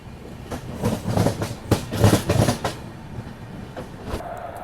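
A Patna-Howrah Express train rolls into Kiul Junction railway station after crossing a river bridge, loud rhythmic wheel clatter over rail joints building up and then easing off as the train slows.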